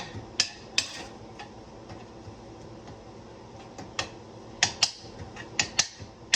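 Frozen garlic being stirred in a pan on a stove set to medium-high, heard as scattered sharp ticks and clicks of a utensil against the pan over a low, steady background, close up and uneven in rhythm.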